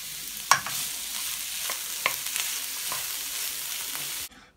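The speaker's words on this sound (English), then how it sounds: "So this is stir-fry vegetables that I got for just 39p, oriental stir-fry vegetables" Oriental stir-fry vegetables sizzle steadily in a hot pan, a continuous bright hiss broken by a few sharp clicks of stirring, then cutting off abruptly.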